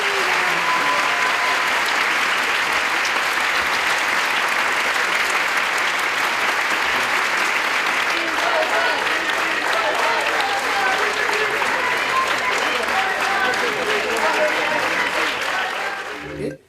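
Sustained, loud standing ovation from a film screening audience, a dense unbroken wall of clapping and crowd noise that carries on steadily before cutting off abruptly.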